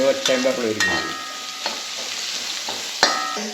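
Sliced onions with homemade turmeric being stirred in a hot pan with a wooden spoon, with soft scraping and gentle sizzling, a few sharp knocks of the spoon against the pan.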